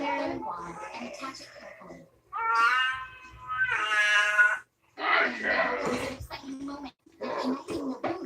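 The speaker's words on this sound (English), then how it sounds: "You hear the cat? You hear the cat?" A house cat meows several times in short drawn-out calls, close and fairly loud, alternating with a person talking nearby.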